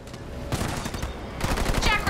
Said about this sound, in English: Jackrabbit under fire from ground troops!